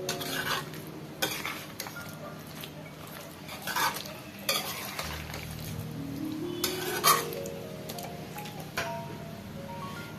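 Chicken curry masala being stirred in a pan: spoon scrapes and clinks against the metal come in irregular bursts over a faint sizzle, close and fairly quiet, with no talking.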